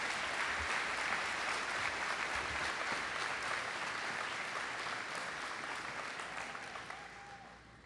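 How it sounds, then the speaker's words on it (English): An audience at a senior awards ceremony applauds AP scholars, a full, sustained round of clapping from a large room that holds steady for several seconds, then slowly fades toward the end. "Please give your AP scholars a round of applause."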